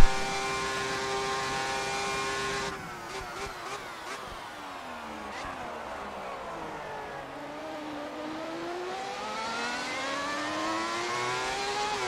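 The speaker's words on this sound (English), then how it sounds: "accelerating out of the hairpin for the last time" A high-pitched Formula 1 engine in a racing video game drops on a downshift into a hairpin, then climbs steadily as it accelerates hard out of it in the rain, revs rising in smooth sweeps, loud and alone.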